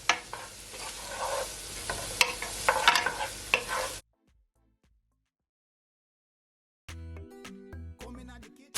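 Pork chops sizzle and fry in a hot pan with stirring clatter for about four seconds, then silence, followed by a short burst of tonal sound near the end.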